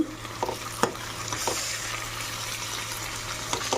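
Chicken frying in a pan on a home stove, a steady close sizzle with a few sharp crackles and spatula scrapes near the start, no voices over it.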